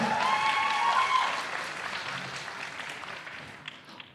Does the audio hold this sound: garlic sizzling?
no